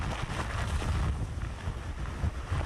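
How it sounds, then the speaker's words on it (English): Heavy hurricane rain hisses under gusting wind that buffets the microphone in a continuous loud roar, at Nags Head during Hurricane Matthew. "Joe, I can hear the rain."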